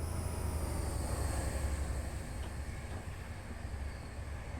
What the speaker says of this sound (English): And a train's about to go by, we'll just watch it from here.